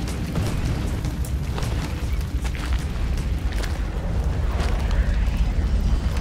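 A rolling, roaring explosion in the shooter Crysis Warhead, heavy low rumble with scattered crackles and pops lasting several seconds, loud and continuous.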